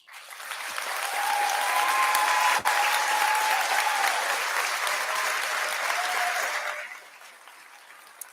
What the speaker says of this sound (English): Could we please give your teachers a short round of applause?